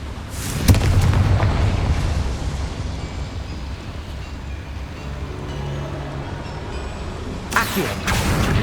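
A Confringo blasting spell goes off in Hogwarts Legacy, a loud booming blast with rumbling debris that fills the scene, followed by a second sharp burst near the end.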